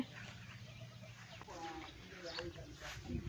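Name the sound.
chickens clucking in a chicken coop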